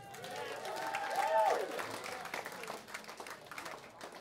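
Audience applause at an 18th birthday party gig, greeting a trumpet player during band introductions; steady clapping swells then slowly tapers over a few seconds, with voices mixed in.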